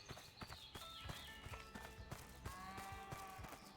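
Hooves clip-clop in uneven rhythm inside Lawn Mowing Simulator, with farm animals moving nearby among soft tonal game sounds, fairly quiet and close.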